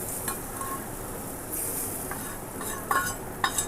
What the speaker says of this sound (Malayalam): അപ്പോൾ നമ്മുടെ വറവ് നമ്മൾ പച്ചടിയിലേക്ക് ഒഴിച്ചു കൊടുത്തു.